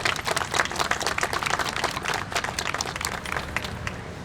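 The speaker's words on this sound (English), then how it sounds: "Let's give them a round of applause." A crowd at an outdoor Veterans Day ceremony applauds a high school color guard, with steady, dense clapping from many hands that holds evenly for several seconds before easing slightly.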